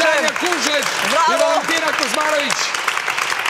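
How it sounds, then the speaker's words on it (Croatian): Studio audience applause on a Balkan television talk show, a steady wash of clapping that runs for several seconds beneath a loud voice speaking or calling out over it. "Još jedan aplauz"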